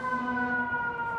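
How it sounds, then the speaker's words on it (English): Recorded fire engine siren from a children's sound book, a loud steady electronic wail with strong sustained tones, heard alone and up close. "A fire engine has a loud siren."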